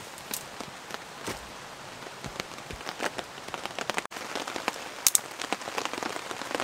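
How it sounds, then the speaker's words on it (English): Rain patters onto a tarp shelter at a woodland campsite, scattered irregular drops tapping sharply at close range over a soft steady hiss, with no voices. "Rain's coming down now."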